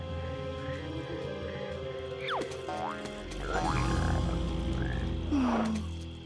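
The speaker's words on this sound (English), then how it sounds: "That's my frog, Ribbit" Cartoon frog croaks, a few separate twangy, boing-like calls with rising and falling pitch over a steady background, fairly close and moderately loud.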